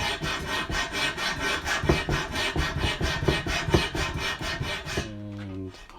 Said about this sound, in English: the first thing I'm going to do is to clean off a patch of rust.